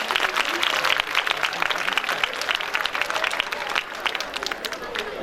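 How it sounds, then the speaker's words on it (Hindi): An audience at a gathering applauds the teachers, with steady, lively clapping from a crowd throughout, loud and close, with faint voices mixed in. "मैं चाहूँगा आप अपने लिए, अपने बच्चों के लिए, अपने टीचर्स के लिए तालियां बजा करके उनका अभिनंदन करें।"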